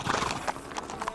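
A horse named Cali clip-clops along while being ridden through vineyards on a horseback winery tour, quick close hoof strikes in a short brisk rhythm.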